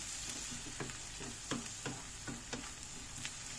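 Onions and a medium capia pepper sizzle steadily in a pan, with a soft continuous frying hiss and occasional light scrapes and taps of stirring, close and quiet.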